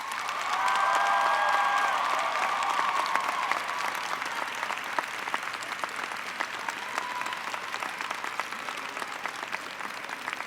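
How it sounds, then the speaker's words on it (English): Graduates at a University of Louisville commencement ceremony applaud their families and friends, a big sustained round of clapping from a large crowd that starts loud and slowly thins out over about ten seconds, with some cheering mixed in. "give them the biggest cardinal round of applause to your family and friends"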